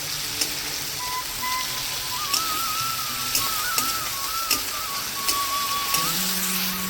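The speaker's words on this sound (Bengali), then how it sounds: "চিংড়ি মাছটাকে আস্তে করে ভেজে নেব একটু।" Small shrimp frying in oil in a pan, a steady close sizzle with scattered pops and crackles throughout, no voices.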